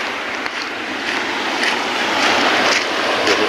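Steady roaring wash of large sea waves, loud and continuous, with surf surging and breaking throughout.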